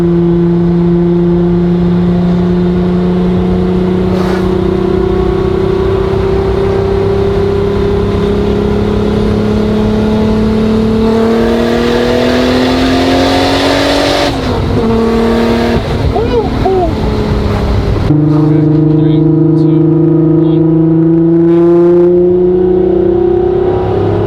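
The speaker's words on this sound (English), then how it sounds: "This thing is definitely a lot louder than the Supra, as you guys can hear, and it's a beast." A big-turbo VW Golf R32 making over 450 wheel horsepower drives on a snowy road, its engine note droning and rising loud and close as revs climb, dropping at a shift, then pulling again.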